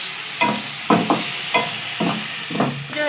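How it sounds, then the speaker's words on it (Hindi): Minced meat is stir-fried with garlic and ginger, rhythmic spatula scrapes and thuds recurring about every half second over a low, steady sizzle, close and fairly loud. "कीमे को और 5-10 मिनट भूनेंगे अच्छे तरीके से"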